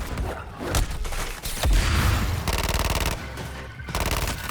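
Bursts of automatic gunfire and heavy impacts fill a Suicide Squad: Kill the Justice League game battle, loud and close, with rapid rattling volleys broken by short gaps and thuds.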